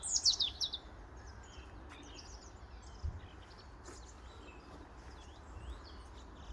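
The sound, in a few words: birds chirping on a branch at a nature reserve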